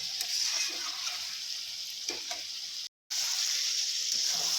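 Mutton being stir-fried in a wok with bits of hot water added, a bright continuous sizzle with occasional stirring scrapes, close up, briefly cut to silence midway.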